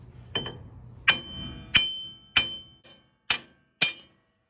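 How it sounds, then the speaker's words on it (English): Six sharp metallic strikes of a ball peen hammer knocking out a car wheel stud, ringing briefly, spaced roughly half a second apart with quiet between blows. "We can get in here and knock this stud out."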